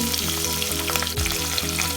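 Red and green chillies with chopped onion sizzle steadily in hot oil, a close, continuous crackling fry with a brief stir partway through and no talking.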